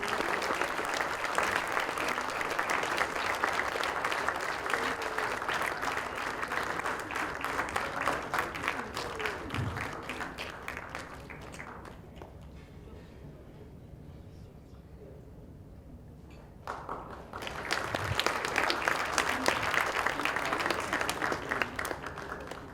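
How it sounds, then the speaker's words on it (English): An awards-ceremony audience claps in a dense, sustained wash, fading to near quiet partway through before the applause swells back up strongly. "Please don't stop clapping."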